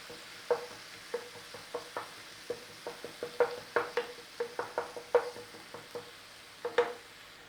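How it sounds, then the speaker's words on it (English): Garlic and ginger stirred in a frying pan for a chicken curry, a soft steady sizzle broken by a rapid run of sharp spatula scrapes and taps against the pan, close and fairly quiet. "we still got to cook that rawness out of that garlic and ginger"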